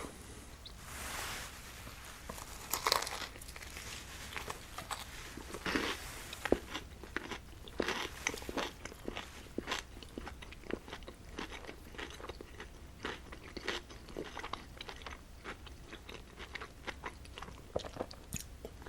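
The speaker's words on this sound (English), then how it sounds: "their breading is still pretty crunchy" Someone bites and chews a Popeyes glazed pickle chicken sandwich with a crunchy breaded fillet and a soggy bun. Crunching and chewing go on steadily and up close for almost twenty seconds, with no talk.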